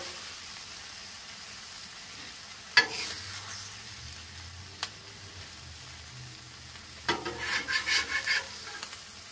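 Cheese fries on a flat Blackstone griddle with a soft, low sizzle, punctuated by a couple of sharp scraping clanks and a burst of spatula scraping near the end; nobody speaks.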